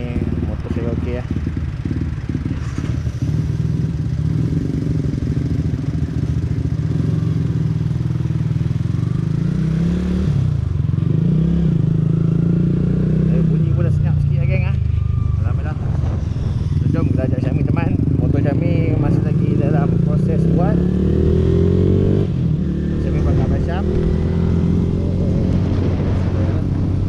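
A motorcycle with a VVA engine rides along, its steady engine drone rising and falling through gear changes over nearly half a minute, loud and close, with wind noise and some rattling.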